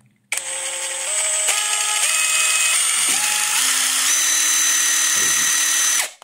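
An Ingco 20V cordless impact wrench spins up with a sharp click, its high whine climbing in steps as speed increases to high, running loud and steady before cutting off.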